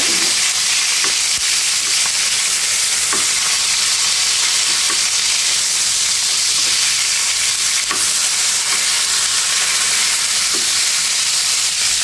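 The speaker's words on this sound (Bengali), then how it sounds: "সম্পূর্ণ মাছটা আমি সুন্দর করে ভেজে নেব" Steady, loud sizzling of katla fish pieces frying in hot oil, with occasional soft clicks and taps from a utensil in the pan; no voices.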